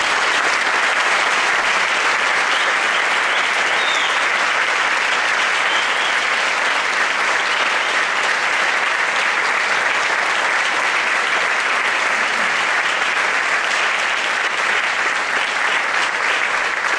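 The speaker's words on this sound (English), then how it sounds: "just give these phenomenal musicians up on the stage a great round of applause" Audience at a high school jazz evening in Canton, Connecticut applauding the musicians on stage: a dense, loud, sustained wash of clapping that holds steady throughout without letup.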